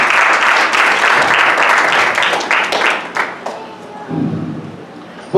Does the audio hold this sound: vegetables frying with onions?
no